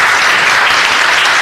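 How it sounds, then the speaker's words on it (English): Dense, steady applause from a council meeting audience, filling the whole short stretch at a loud, even level with no pause. "everybody, give him a round of applause"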